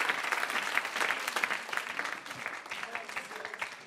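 A church congregation claps and cheers in praise of the Lord, a dense, continuous wash of applause from a crowd in a hall, with voices mixed in throughout.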